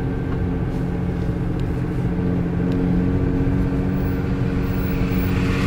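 A Nissan GT-R R35 fitted with HKS coilovers rolls along on a test drive, heard from inside. A constant low engine drone and road rumble, steady throughout, with no talking.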